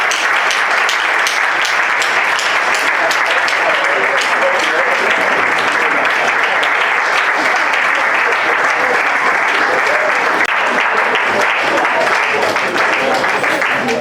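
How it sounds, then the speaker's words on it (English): Loud, continuous applause and clapping from an audience at a national debate championship final in Togo, welcoming a jury member to the stage; dense and steady throughout, with crowd noise mixed in. "with a very big round of applause, let's welcome Mr. Antonio Asinho"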